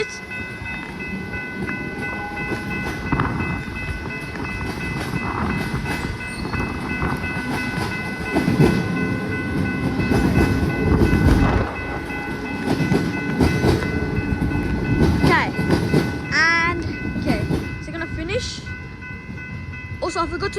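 A Comeng electric suburban train heading to Frankston rumbles past the Bear St level crossing in Mordialloc, Victoria, on a windy, rainy day. Crossing bells ring steadily above the close, clattering wheels, and brief voices are heard nearby.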